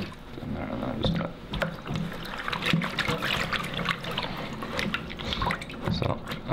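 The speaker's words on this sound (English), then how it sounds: "We'll soak it in sort of like lukewarm water." Fabric canvas for a coat soaking in a basin of lukewarm water, giving a steady low trickle and slosh of liquid that runs the whole time under faint, indistinct voices.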